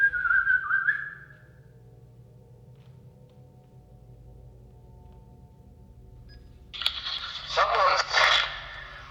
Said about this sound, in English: They whistle again.